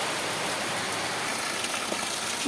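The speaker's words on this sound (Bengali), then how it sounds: "দেখো কিরকম ঝড় বৃষ্টি হচ্ছে" Heavy rain pours down outside during a storm, a loud, even, close-up rush of drops with no talking.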